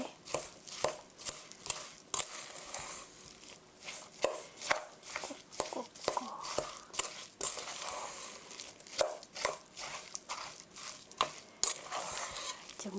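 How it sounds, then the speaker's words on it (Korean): A spatula folds apple cinnamon cake batter of egg and flour with repeated cutting strokes, a quick irregular series of soft close taps and scrapes against the bowl. "이렇게 자르듯이 섞어주세요"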